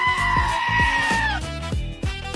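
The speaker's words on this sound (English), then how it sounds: "It's goat." A goat lets out a loud, wavering bleat, a sharp nasal cry close by, over a busy stretch of quick thumping and clattering beats.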